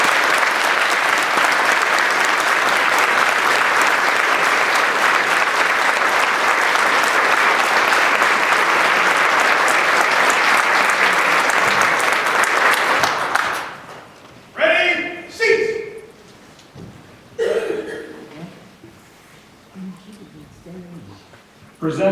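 Sustained, dense audience applause for graduating police recruits and military veterans at a Class of 2020 ceremony, loud and even for about thirteen seconds before stopping abruptly, followed by a few scattered voices and room noise.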